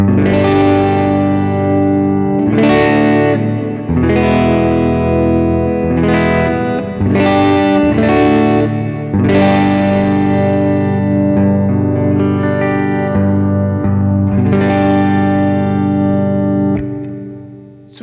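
Epiphone Dave Grohl signature 339 electric guitar played through a Vox AC30 amp pushed a little hot, ringing out distorted chords with chorus-like shimmer, struck every couple of seconds and left to sustain, loud and upfront with no talking.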